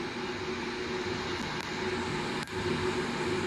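Airliner engine hum from a Lufthansa Airbus A319 in the Aerofly flight simulator game, a steady broadband roar with a faint tonal whine, continuous and fairly loud, with no talk.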